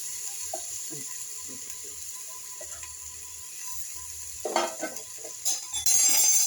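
Broken wheat with cumin fries in a pan, a faint low sizzle with light scrapes and clinks, growing louder toward the end as the spoon stirs more actively.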